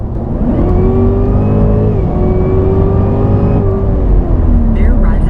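A loud, close 2016 Cadillac CTS-V engine revs hard, its pitch rising and dipping as it accelerates through the gears without pause.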